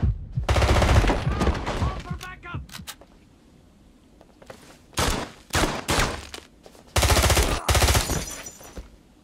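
Loud automatic gunfire from a James Bond 007: Blood Stone action scene comes in several dense, rattling bursts separated by quieter gaps, close and aggressive with sharp single cracks between the volleys.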